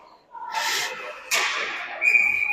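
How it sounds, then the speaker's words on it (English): A referee's whistle shrills during a third-period ice hockey game, with a short blast followed by a longer sustained tone over arena crowd noise and faint commentary. "we get a whistle"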